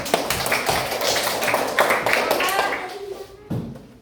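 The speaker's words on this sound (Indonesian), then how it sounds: "Ayo tepuk tangan." A group in a classroom claps hands in a quick burst of sharp, overlapping claps that die down, with a few more claps near the end and voices mixed in.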